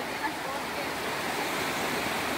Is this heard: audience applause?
no